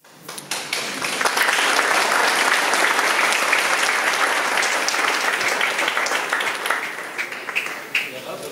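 A sustained round of audience applause rises quickly and holds for several seconds before tapering off, with a voice audible near the end.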